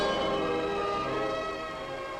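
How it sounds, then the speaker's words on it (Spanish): A church bell rings in a sustained, resonant tone that fills the whole stretch, steady and fairly loud with a slow fade toward the end and no voices. "la campana que nos ha acompañado en toda nuestra vida nos sigue hasta el final"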